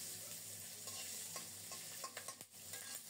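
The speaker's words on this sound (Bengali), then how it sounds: "এবার দেব 1 চা চামচের মতো কালো জিরা। চুলার তাপটা কমিয়ে রেখেছি, সব মিলিয়ে কিছুক্ষণ ভেজে নেব।" Nigella seeds (black cumin) frying over low heat in a pan, a soft continuous sizzle with a few stirring scrapes and clinks near the end, quiet and close with no voices.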